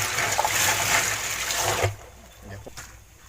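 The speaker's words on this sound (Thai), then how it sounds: "ตอนนี้ผมก็เปิดน้ำใส่แล้วนะครับ เปิดน้ำใส่มาเลย" Tap water pours into a fermentation container for golden apple snail fertilizer, with a loud steady rush that cuts off partway through and then fades to a quieter trickle. Someone talks over it.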